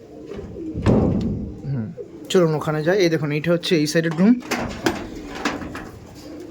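Teddy and kaldom pigeons coo in a loft room in soft, rolling bursts. Someone talks over them close by.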